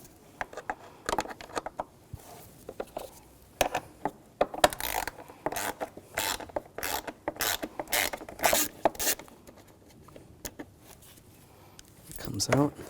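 Ratchet clicking in short bursts while screws are backed out during an oil pressure switch replacement on a 2011-2018 Volkswagen Jetta, close and fairly quiet, with intermittent pauses.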